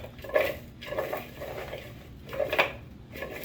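Sausage pieces being tossed in a cooking pan, giving soft scraping and rattling clatters with a few sharper metallic knocks, steady and close for a few seconds with no voices.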